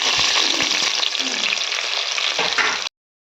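Onions sizzling in hot oil with whole spices like fennel, cardamom, cinnamon and cloves for a veg biryani, a loud, steady frying hiss that runs unbroken for nearly three seconds before cutting off abruptly, with no voices.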